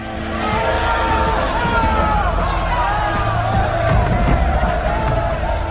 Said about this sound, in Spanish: entre los aplausos también había gritos de protesta